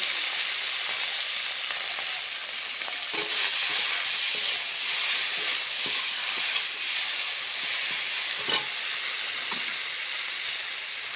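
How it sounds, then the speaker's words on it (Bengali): Tilapia fish frying in hot oil in a wok gives off a steady, close, loud sizzle with a few sharper pops scattered through it, and no voices are heard. "মাছটা এখন তেলে ভেজে নেব।"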